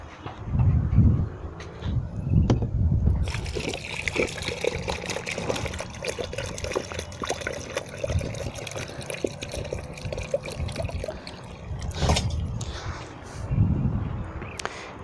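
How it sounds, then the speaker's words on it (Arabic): Water poured over prickly pear cactus plants growing on a rooftop: soft, continuous splashing and trickling at close range, with a few louder low thumps and no talking. "تعالوا نسقي ده كده."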